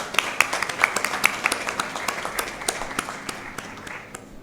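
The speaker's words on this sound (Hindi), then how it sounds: "जोरदार तालियों से। तालियां।" Audience applause at a Prerna Diwas birthday celebration, with sharp claps scattered over a crowded, moderately loud patter that thins slightly toward the end.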